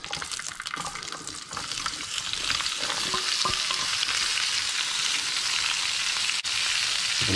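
Sliced onions with red and green capsicums sauté in a hot oiled pan, a loud, steady sizzle that builds and holds throughout, with occasional stirring scrapes and no talking.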